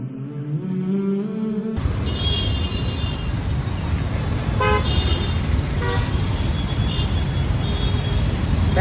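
Heavy city traffic in Hitech City, Hyderabad, a loud continuous roar of engines and road noise with several car horns honking briefly partway through, starting abruptly after a short quieter opening.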